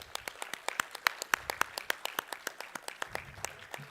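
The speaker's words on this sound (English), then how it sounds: "a big round of applause for each one of us, please" A crowd at a CSR and sustainability conference applauds steadily, a dense patter of many hands clapping at once, with sharper individual claps standing out over the continuous wash.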